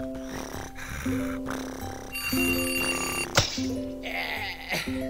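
An alarm clock rings in insistent bursts over bouncy background music in the game Baba-Yaga and Prosha: A Year Full of Worries, with a sharp clattering hit partway through.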